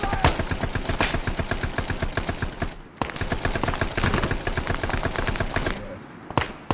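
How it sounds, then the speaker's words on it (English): Dense, rapid enemy gunfire rattles in the Arma video game during a Vietnam-era co-op assault on Lang Vei, with bursts of automatic fire running almost continuously, briefly pausing, then resuming loud and close. "Enemy fire!"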